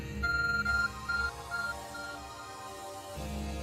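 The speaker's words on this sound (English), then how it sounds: "Our phone is beeping." In Pokémon Legends: Arceus, a phone gives a short run of repeated high electronic beeps. The beeps sit over a soft, low game music bed and then fade out.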